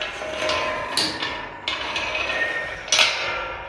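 Several sharp metallic strikes ring out at irregular intervals as a hammer knocks eye bolts on a metal gate during a palisade fence installation, against a faint steady background.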